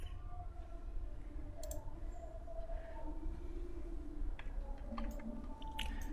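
Computer mouse clicking while working in MS Publisher: a few sharp, isolated clicks spread across a steady low room hum, fairly close, with no talking.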